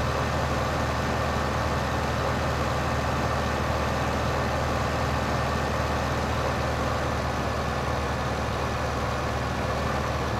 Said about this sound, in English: This tractor is very loud.